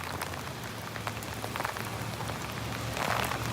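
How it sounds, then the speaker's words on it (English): Heavy rain pours steadily onto surfaces while standing under a tree, a dense, continuous hiss with a low rumble beneath, no hail impacts, and a brief surge in intensity near the end. "it is absolutely pouring right now"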